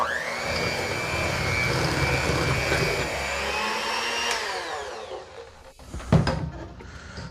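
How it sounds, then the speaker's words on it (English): An electric mixer whirs loudly through snickerdoodle cupcake batter with a steady motor whine, then spins down and stops, followed by a few clunks of handling. "And then we're gonna begin to mix again."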